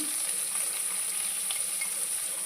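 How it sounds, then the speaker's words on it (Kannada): Tomato with turmeric and salt frying in a pan, giving a steady close sizzle that holds evenly throughout, with no talking. "ಉಪ್ಪು ಅರಿಶಿನ ಪೌಡ್ರು ಹಾಕಿ ಸ್ವಲ್ಪ ಇದು ಸಾಫ್ಟ್ ಆಗುವವರೆಗೆ ಹುರಿವ"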